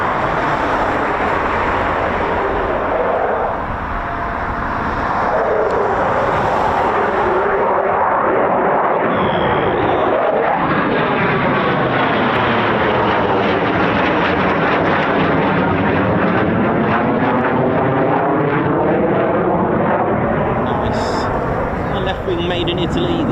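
A Eurofighter Typhoon FGR4 jet doing a touch and go, a loud sustained roaring engine that swells and sweeps in pitch as it passes, heard from a distance in the open with steady heavy rumble throughout.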